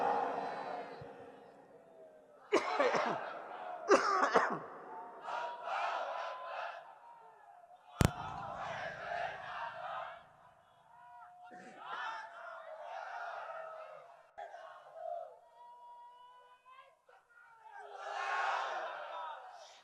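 At a Bangla waz religious gathering in Kushtia, a large crowd shouts a chanted takbir response in several loud bursts, between stretches of a preacher's amplified voice.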